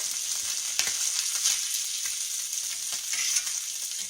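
Catfish fillets pan-frying in a skillet send up a steady, dense sizzle and crackle, close and fairly loud. Faint scraping and stirring clicks show now and then, and nobody speaks.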